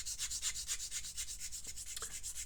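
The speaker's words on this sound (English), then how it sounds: "The other benefit of using a coarser sanding stick on these joints is that it just roughs the" A coarse sanding stick rubs the joints of a 1/72 Airfix Avro Vulcan B.2 plastic model kit in quick, rhythmic back-and-forth strokes, each a close, dry rasp, with no talking.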